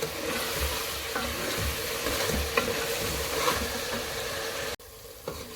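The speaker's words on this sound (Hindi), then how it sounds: "इसकी अच्छे से भुनाई करेंगे ताकि जो कीमे की हीट होती है वो ख़त्म हो जाए।" Minced meat keema is stir-fried in a hot pan for aloo keema, with a continuous sizzle and the repeated scrape and clatter of a spoon stirring, close up with no talking.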